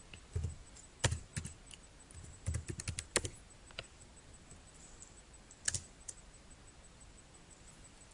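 A computer keyboard is typed on nearby in short irregular bursts of crisp clicks separated by quiet pauses, with no talking.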